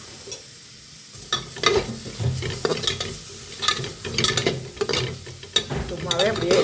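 Ginger and garlic are sautéed dry in a pan with no oil for a chickpea curry, a close scraping stir with soft crackling sizzle and repeated spoon clatter throughout, no talk.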